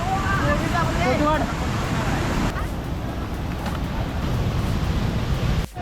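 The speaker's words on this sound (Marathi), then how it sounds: "नदीला जसा पूर आला आहे तर बघायला आले" Floodwater rushes in a loud, continuous roar, with voices talking briefly at the start and a sharp knock at the very end.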